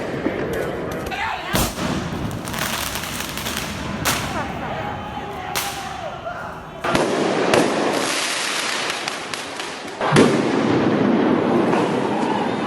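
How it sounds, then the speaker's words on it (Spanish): Protesters launch fireworks at the federal courthouse in downtown Portland: sharp cracks and bangs go off repeatedly at irregular intervals, some loud and close, with crackling bursts and whistles between them. "los manifestantes lanzaron fuegos artificiales contra la Corte Federal del centro de Portland"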